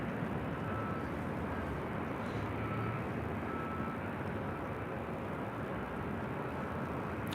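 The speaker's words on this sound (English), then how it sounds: "This is Southwest Airlines 2833 taking off to Baltimore on a MAX 8." A Southwest Airlines Boeing 737 MAX 8 takes off from LAX, a constant, fairly distant wash of jet-engine noise that stays level and unbroken with no speech.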